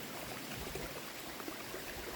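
Small trail waterfall spilling into a stream, a steady close broadband rush of falling water with no talking over it.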